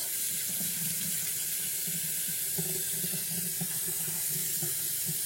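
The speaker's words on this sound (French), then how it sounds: "on va les passer sous l'eau froide afin d'éviter qu'elles ne collent" Cold tap water streams steadily over cooked Alsatian pasta in a sink, a continuous close rushing and splashing that holds an even level from start to finish.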